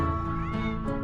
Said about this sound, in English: Isn't it the cactus cat?